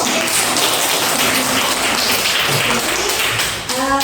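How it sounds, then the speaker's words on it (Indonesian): Clapping from a classroom group during an Indonesian school lesson on banking, a dense, steady patter of many hands lasting the whole stretch, with a few voices briefly audible near the end. "Iya, tepuk tangan."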